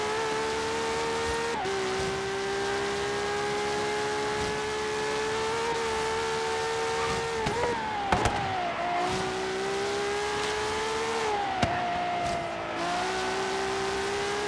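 A LaFerrari PXH Edition races in Forza Horizon 3, its engine holding a loud, steady high-revving drone with brief dips at gear changes and throttle lifts across a long stretch, with no voices.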